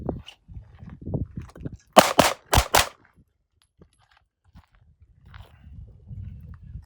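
A handgun fires a fast burst of four shots in quick succession at several targets, loud and sharp, with quiet movement and shuffling before and after.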